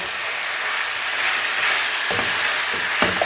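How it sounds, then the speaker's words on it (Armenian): Mushrooms frying in a pan, a loud, steady, close sizzle with a few short clinks of a utensil near the end. "Թող մարման տապակվի"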